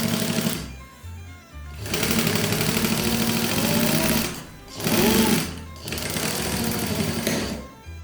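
Sewing machine stitching fabric flap pockets onto the left side of a firefighter cargo utility garment, running in loud sustained bursts with brief pauses between seams.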